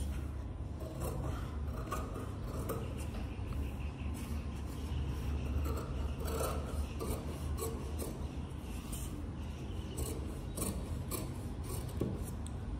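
Scissors cutting away extra blouse fabric to match the lining, a continuous run of close, rhythmic snipping and rasping fabric sounds over about thirteen quiet seconds, with no talk.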